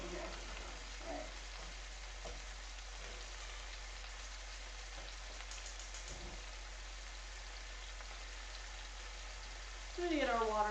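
Vegetables and chicken sizzle steadily in a hot pan, a constant crackling hiss with occasional pops, ending as a voice starts speaking.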